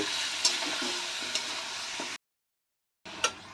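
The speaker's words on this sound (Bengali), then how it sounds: "আমি চিকেনটাকে ভালো করে একটু ভেজে নেব।" Chicken frying in a pan, a soft steady sizzle with a few light scrapes, cut off by a brief silence before it resumes.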